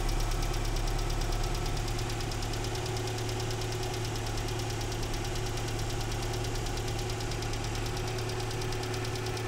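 A Nissan Sunny truck (Datsun 1200) engine runs steadily after an electronic ignition fit, a loud, close, continuous idle with an even knocking pulse and no talk over it.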